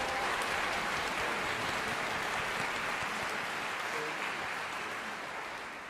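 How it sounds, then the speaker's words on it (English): Steady applause from an audience at a kids' concert performance, heard somewhat distant and continuous, with a rolling wash of clapping that tapers slightly at the end. "Give it another round of applause, please."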